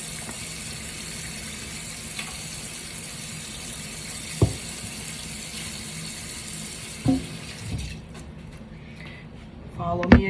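Tap water runs steadily into a pot while rice is washed, a continuous close hiss with a few soft knocks and clatters of the container, easing off near the end.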